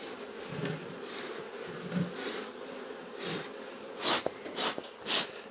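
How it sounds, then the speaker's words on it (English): Honeybees buzz around an open hive during an inspection, a close, steady hum with louder swells as bees pass near, along with soft puffs from a smoker. "that's gonna help calm the bees down."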